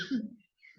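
A single short, muffled cough or throat clear, fairly quiet and close, followed by a brief breathy trail.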